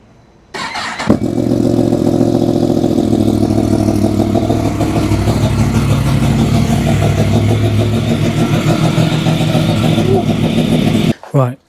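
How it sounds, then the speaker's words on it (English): Yamaha MT-10 SP motorcycle on its stock exhaust firing up from cold, then idling loudly and steadily for about ten seconds before being shut off, with talk over the engine. "let's do a cold start and see what it sounds like as it is"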